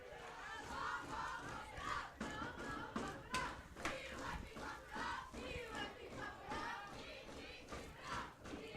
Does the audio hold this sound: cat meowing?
no